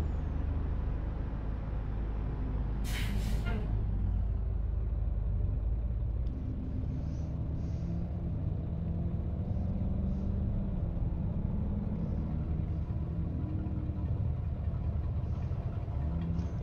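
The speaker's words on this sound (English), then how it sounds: "Love the traffic sounds of this game." Low rumbling traffic drone in American Truck Simulator, with idling engines and a brief hiss of an air brake early on, continuous and fairly even throughout.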